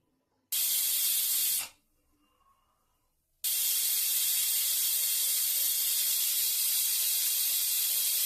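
A pressure cooker of spinach dal vents steam in loud, sustained hissing bursts, one jet cutting off for a couple of seconds of quiet before a longer, steady blast resumes close by.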